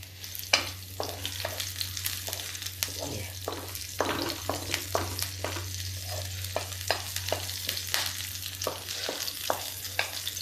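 Garlic and chilli fry in a pan for a village-style Indian potato and pea dish, giving a continuous close sizzle. A spoon stirs and scrapes repeatedly throughout, with a low steady hum underneath and no talking.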